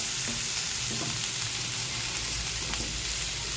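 Potatoes fry in oil for aloo fry, a dense, even sizzle that holds steady throughout with faint scraping of a stirring utensil.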